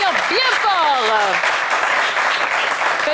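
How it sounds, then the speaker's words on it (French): A television game show audience applauding the four qualifiers, steady close clapping under a host's speech for the first second and a half, then clapping alone. "On va les applaudir bien fort."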